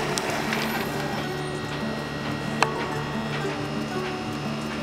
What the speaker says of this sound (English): Now I'm performing nozzle check.